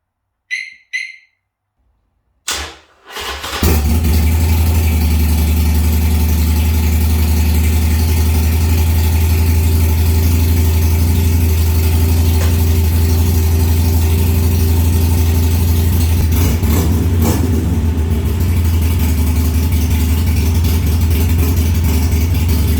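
A Harley-Davidson Sportster motorcycle engine fires after a few brief clicks and then runs steadily and loudly at idle, a continuous close rumble with no talking.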